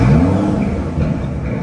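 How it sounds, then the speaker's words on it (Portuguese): A 2022 Aston Martin DBS V12 firing up: a loud, deep engine catch with a rising revving whir that settles into a rumbling idle, close and alone. "Acordamos o V12 e olha o que é o barulho desse V12."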